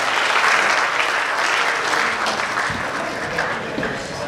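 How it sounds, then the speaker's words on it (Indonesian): A seated audience at a procurement talk applauds its keynote speakers, producing a broad, steady wash of clapping that holds at full strength for the whole stretch without dying away. "Berikan tepuk tangan sekali yang paling meriah."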